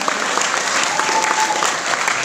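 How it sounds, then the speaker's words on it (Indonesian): An assembly at SMA 1 Rancabungur during a Maulid Nabi school event gives sustained, lively applause, with many hands clapping continuously and loudly for the whole stretch. "boleh tepuk tangan buat SMA 1 Rancabungur"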